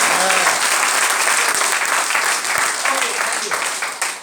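Sustained loud applause from a seminar crowd, many hands clapping in a thick continuous roar that slowly thins toward the end, with faint voices mixed in.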